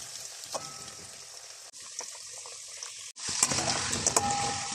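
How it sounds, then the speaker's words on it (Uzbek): Potatoes fry in hot oil with a steady, moderately soft sizzle that is interrupted by two short breaks and grows louder and busier toward the end. "Qizib turgan yog'da kartoshkalarimizni qizartirib qovurib olamiz."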